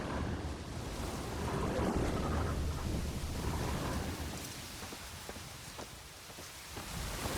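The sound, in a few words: thunderstorm with rain in video game The Witcher 3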